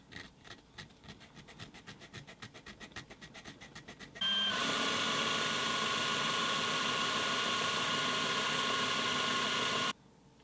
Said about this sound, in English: Since we're here, I'm going to re-drill these posts,